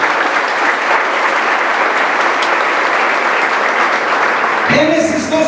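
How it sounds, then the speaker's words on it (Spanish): Loud, dense applause from a church congregation during a Spanish-language sermon, sustained and even for several seconds before tapering as a voice begins at the end. "Aplauda al Señor por eso primero."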